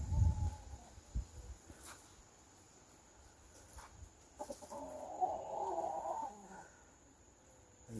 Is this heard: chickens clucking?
yes